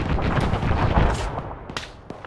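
Gunfire in ARMA 3, a military shooter, rolls out as dense overlapping shots and booms for about a second, then thins to a few sharper, more distant cracks.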